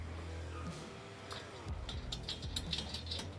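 A T30 Torx crossbar bolt is started on a Prinsu roof rack fitted to a 2023 Toyota Sequoia, producing a quick series of close mechanical ratcheting clicks over a steady background hum.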